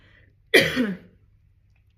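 A single close, sharp cough that rolls into a rough throat clearing, short and fairly loud, followed by quiet.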